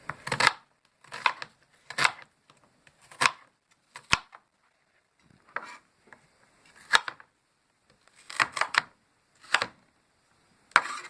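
A knife dicing peeled onions on a cutting board, sharp close chops falling in short quick clusters separated by brief pauses, with no talking.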